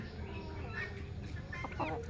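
Desi chickens cluck in short, scattered bursts over a steady low background hum, moderately close, with a few sharper calls near the end.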